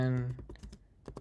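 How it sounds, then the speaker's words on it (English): Quick one-handed typing on a computer keyboard, a short run of soft clicking keystrokes right after someone briefly speaks nearby. "I'm typing with one hand because I'm holding puppy on the other hand."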